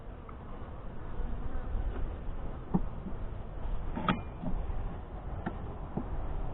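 Honey bees from a Saskatraz-queen colony buzz steadily at an open hive during an inspection, a dense close hum with occasional louder passes of single bees near the ear.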